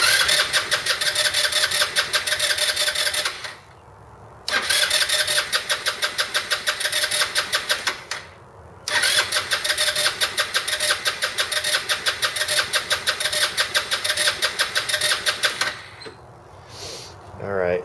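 Roketa scooter engine cranking without starting, a loud rapid chugging that runs in three long attempts separated by short pauses, with a voice faintly under it.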